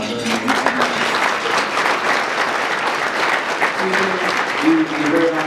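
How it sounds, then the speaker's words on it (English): Sustained applause from a fundraiser luncheon audience, dense and steady clapping filling the room throughout, with a few voices faintly audible beneath it. "Give those folks all around the applause."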